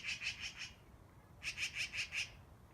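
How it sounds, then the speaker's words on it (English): Several magpies call back and forth in a patch of prairie forest, two bursts of rapid, harsh chattering squawks, each of about five notes, separated by a short quiet gap over low background hiss. "The conversation that you are hearing is between a few magpies."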